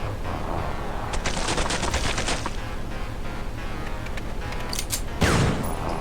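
Gunfire in the video game Doom, rapid repeated shots in loud sustained bursts over a constant noisy game backdrop, with a heavier blast near the end.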